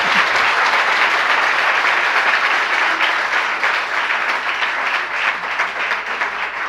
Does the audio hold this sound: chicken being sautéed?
no